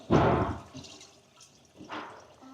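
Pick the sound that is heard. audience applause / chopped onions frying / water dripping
water dripping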